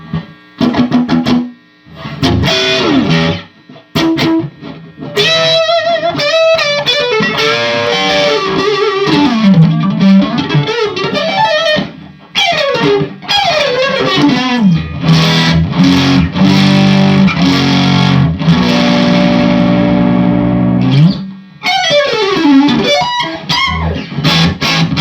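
Electric guitar with noisy stock pickups played through heavy distortion, riffing and sustained chords over a constant background of hum and buzz, loud and close, with brief gaps where the noise hangs alone.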